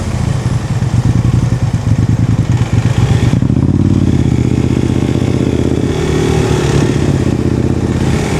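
A Triumph motorcycle rumbles close by, its engine pulsing rapidly at first and then blending into a steady, loud roar as it passes.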